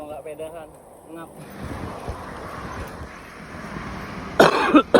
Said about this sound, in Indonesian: Batuk boy.